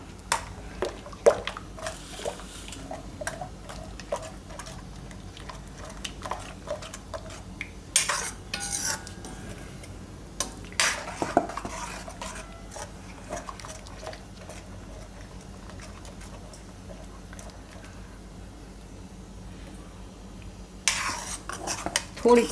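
Yogurt stirred and cooked in a pan for malai pyaaz, with a spoon clinking and scraping against the pan in scattered knocks, soft squishing underneath, close and moderately quiet, with no talk.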